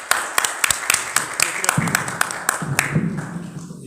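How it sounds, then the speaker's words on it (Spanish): Audience applause after a book presentation: a run of sharp, fairly close hand claps, uneven and steady for several seconds before tapering off. "Aplausos."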